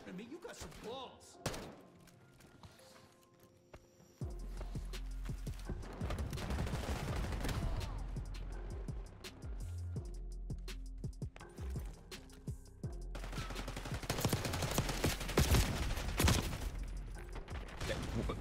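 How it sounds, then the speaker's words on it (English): Gunfight gunfire in the Black Ops 6 video game, bursts of shots and thuds swelling into a busy, loud exchange, with game voice lines and someone talking at times. "Yeah, that was a funky gunfight."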